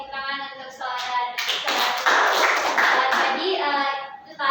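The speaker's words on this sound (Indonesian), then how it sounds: "beri tepuk tangan untuk saudara" Classmates in a school classroom clap for a student, a burst of close hand claps that builds and fades, with young voices speaking before and around it.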